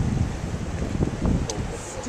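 Strong gusting wind in Bear Canyon buffets the microphone, producing heavy low rumbling thumps that surge and fade irregularly, close and loud, with faint higher rustle on top.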